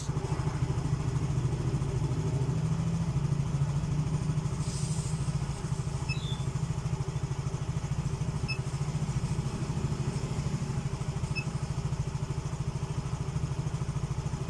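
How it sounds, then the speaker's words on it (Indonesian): A Yamaha Mio Soul GT motorcycle engine idles steadily at about 1600 rpm nearby, a low even rumble with faint clicks and ticking over the whole stretch. "Ini putaran mesin sudah di 1600."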